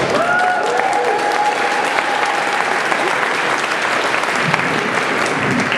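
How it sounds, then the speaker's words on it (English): Loud, dense applause from a crowd at a rally in the Minnesota State Capitol rotunda, steady and continuous, with a few whoops and voices mixed into the clapping. "Let's give her a big round of applause"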